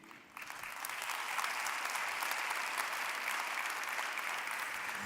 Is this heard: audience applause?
yes